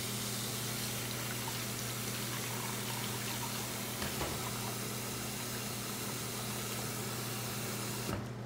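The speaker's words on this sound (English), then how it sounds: "you're going to put a very small amount of water in the sink" Tap water runs steadily into a plugged sink, a constant hissing gush with a low hum beneath that cuts off abruptly at the very end.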